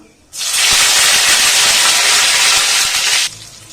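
A loud, steady sizzle of curry leaves hitting hot oil with popped mustard seeds bursts in suddenly, holds for about three seconds, then drops away abruptly.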